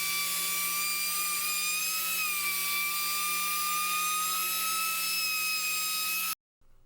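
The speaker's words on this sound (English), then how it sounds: "I take my router bit with a 45-degree angle on it and make a nice profile along the edge." A high, steady whine of a spinning router with a 45-degree bit cutting an edge profile on a veneer table top, loud and close, holding a constant pitch with a slight dip, then cutting off abruptly.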